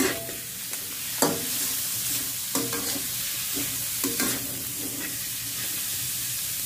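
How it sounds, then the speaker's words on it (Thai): Shrimp stir-fried with shallots and red onions in a hot pan, a continuous loud sizzle broken by repeated scraping, clattering stirs at an irregular rhythm, close up with no talk. "เลยจะผัดหอมใส่กุ้งเลยจ้ะ"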